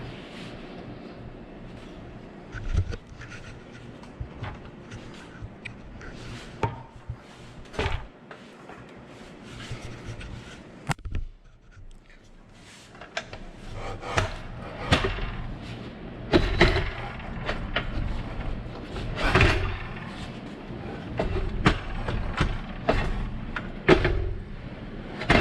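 A Harbor Freight Hercules miter saw stand is handled, with the saw being set on and locked down: scattered metallic clunks, clicks and sliding knocks at close range, some sharp and loud, spread unevenly throughout with no talk.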